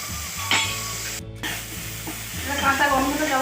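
Ginger, garlic and onion paste drop into hot oil in a pan and set off a steady sizzle that builds toward the end, along with a brief clatter as the paste goes in.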